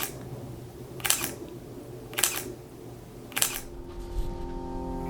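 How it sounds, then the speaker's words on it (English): Three crisp shutter clicks from a Leica M10 camera, evenly spaced about a second apart, close and distinct over a low background hum. "So here's the shutter."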